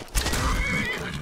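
A horse in the video game Skyrim VR gives a single loud, close whinny lasting about a second, with no talking over it.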